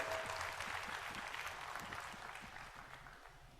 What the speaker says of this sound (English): I think this calls for a huge round of applause for all the volunteers who've been here